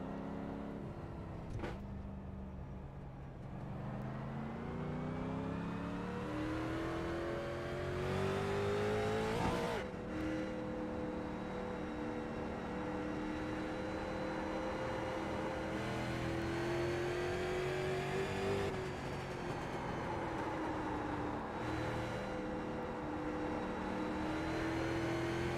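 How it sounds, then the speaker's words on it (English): A race car in iRacing drives through a series race, engine note steady and rising through gear changes, with another car closing in and passing nearby, continuous and loud with no talk. "Watch your mirrors, there's a car approaching."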